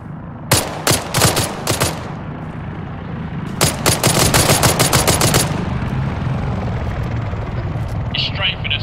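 Bursts of automatic gunfire from an attacking helicopter in the military game Arma, two loud volleys of rapid shots over a steady rotor drone, with brief voices in the mix.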